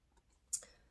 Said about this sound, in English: you can kind of hear the knot pop through